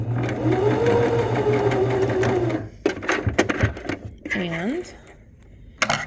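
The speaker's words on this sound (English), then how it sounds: "all I'm doing is sewing a straight stitch" A sewing machine runs a straight stitch along a pinked fabric seam, giving a steady humming whir for under three seconds. Clicks, handling noises and a brief voice follow.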